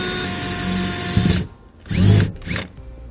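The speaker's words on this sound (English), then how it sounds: "We'll then take a 3/8 drill bit and we're going to drill through the grommet located here." A power drill with a 3/8 drill bit bores through a vehicle's rubber wiring grommet, a steady close whine for over a second, then two more short bursts after a pause.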